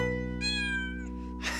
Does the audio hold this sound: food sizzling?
no